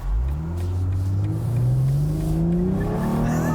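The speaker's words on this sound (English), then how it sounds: "You can hear the slight chirp and that turbo noise." A 2022 BMW M440i convertible accelerates hard, its turbocharged engine note rising steadily in pitch with a faint turbo chirp and whine riding above the smooth, loud drone.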